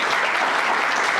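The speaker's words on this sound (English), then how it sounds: "Give him a big applause" Steady, dense applause from a crowd at a DHL industry event, hands clapping continuously at an even level throughout.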